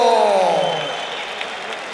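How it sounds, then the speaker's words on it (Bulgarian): A fight-night audience at a Muay Thai event applauds a fighter, a brief spread of clapping under the fading, reverberant tail of the announcer's voice. "Вашите аплодисменти за"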